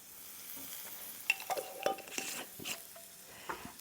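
Mushrooms fry softly in ghee in a pan, a quiet sizzle under scattered utensil scrapes and clinks as they are stirred around, close and fairly faint.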